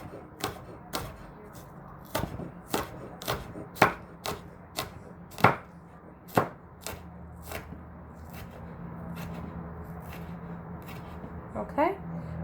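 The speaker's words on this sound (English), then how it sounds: "I'm gonna chop all of that up" Knife chopping green onions on a cutting board, a run of sharp, evenly spaced near thuds and clicks at a steady pace that stops partway through, followed by quiet handling noise.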